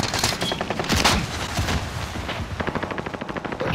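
Gunfire from the video game Call of Duty: Modern Warfare, with loud bursts of rapid automatic shots crackling one after another, dense and close throughout, ending in a fast rattling machine-gun stream.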